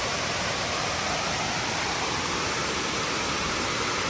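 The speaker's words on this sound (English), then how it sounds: "Waterfall here." Waterfall near Chiang Dao in Chiang Mai, Thailand: a dense, constant roar of falling water, broadband and unbroken throughout, with no voices.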